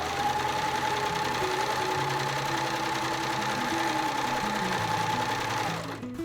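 A sewing machine runs steadily for about six seconds, stitching fabric for a patchwork skirt with a continuous close mechanical whir, then stops abruptly near the end.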